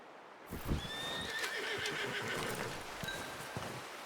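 A horse in the video game Red Dead Redemption 2 neighs in a high, thin whinny twice, with soft hoof clip-clops and ambient outdoor noise underneath.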